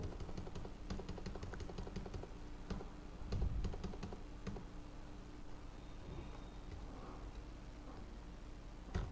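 Keys clacking on a computer keyboard during data entry in billing software, with Enter presses; irregular soft clicks close by over a steady low hum, no talking.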